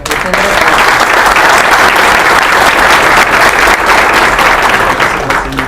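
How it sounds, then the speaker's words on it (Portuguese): Loud, dense applause from the audience at a tech talk, many hands clapping continuously and evenly close by for several seconds. "pedir uma salva de palmas aqui"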